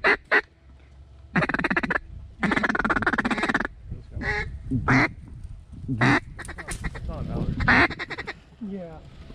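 Mallard ducks quack in repeated raspy bursts during a morning duck hunt, loud and close, with hunters talking between the calls.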